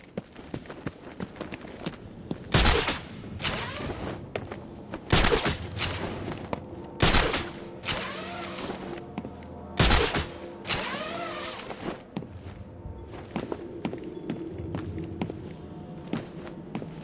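Several sharp gunshots from a bell tower in the video game Batman: Arkham City ring out at irregular intervals, echoing over a busy backdrop of footsteps and mechanical game ambience.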